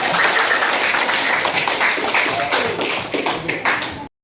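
Classmates clap for a group after its presentation in a classroom. Dense, steady applause from many hands runs for about four seconds, loud and close, with no talking over it, and it stops abruptly.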